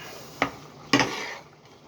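A spoon stirs thick Hungarian goulash in a metal pot, giving two distinct scraping knocks against the pot a half-second apart followed by a fading swish, close and fairly quiet.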